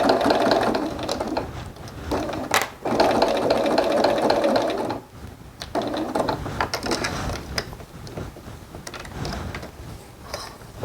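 A home sewing machine stitching a luxury Salerno handbag, rapid mechanical clatter in long runs broken by brief pauses and clicks of the mechanism, close and fairly loud with no talking.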